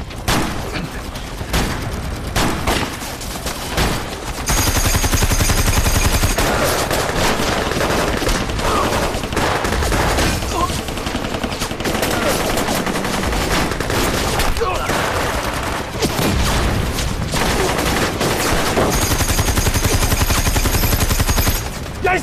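Machine gun fire rattles through a battle scene in a Chinese war drama, long loud bursts of automatic gunfire with booms, broken by brief lulls and shouted voices.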